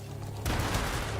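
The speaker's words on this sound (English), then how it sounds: "Who's shooting?" Gunfire from the Spider-Man 2 video game breaks out abruptly as a loud, dense burst of shots that continues to the end.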